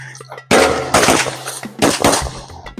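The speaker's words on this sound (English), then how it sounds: "now we're going to try a little bit of stress relief with the shotgun" Mossberg 590 shotgun fired outdoors at a range, several loud close booming blasts spaced about half a second apart, each ringing out briefly before the next.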